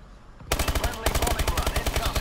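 ASM1 submachine gun firing in the video game Call of Duty Advanced Warfare, a close, rapid automatic burst of evenly spaced shots that breaks off briefly, then resumes as another steady stream of fire.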